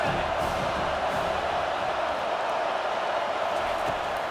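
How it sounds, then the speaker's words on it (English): Stadium crowd roaring and cheering during a Florida State vs Miami game in the College Football 25 video game, a dense, steady wash of crowd noise holding loud throughout on a big third down. "Big 3rd down as the crowd gets behind this defense."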